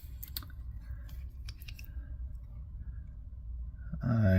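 Scissors snipping thread while tying a pheasant tail nymph fly: a few quick, close, quiet clicks and snips early on over a low background rumble, with a brief louder rustle at the end.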